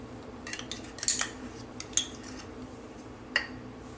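Yogurt going into a bowl of chicken marinade with tandoori masala, heard as a few light clinks of a spoon on a dish, a clearer tap about midway, and soft scraping between them, close up and with no voices.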